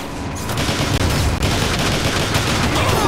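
Sustained, dense gunfire in the video game Transformers: War for Cybertron, with rapid overlapping shots and bursts, loud and continuous throughout.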